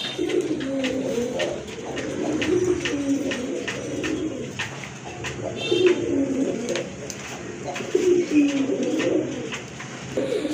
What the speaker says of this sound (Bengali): এক জোড়া ব্লু বার রাজগোল্লা কবুতর